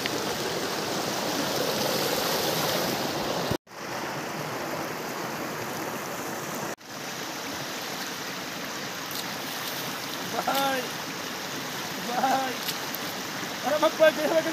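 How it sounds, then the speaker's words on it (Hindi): Natural stream water pours down from above at a rural homestay bathing spot, a steady broadband rush that runs throughout the clip, with a couple of brief dropouts and some faint splashing near the end. "ये आ रहा हमारा नेचुरल पानी ऊपर से"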